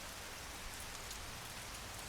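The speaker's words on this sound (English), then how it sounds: "It rains and it rains and it rains." Rain falls in an audiobook soundscape, a steady, even hiss of drops on a surface that holds constant throughout with no voice over it.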